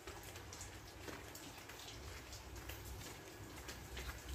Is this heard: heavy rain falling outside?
yes